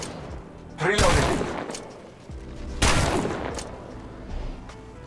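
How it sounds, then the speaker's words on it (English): Video game gunfire with two loud bursts of shots, each fading out, under radio-style callouts about contacts and firing. "I am taking fire."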